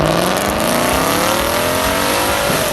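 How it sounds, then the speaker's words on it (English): A Ford Mustang GT muscle car revs hard close up, its engine note climbing steadily in pitch over a few seconds with a dense, rough growl. "Number 5. Ford Mustang GT,"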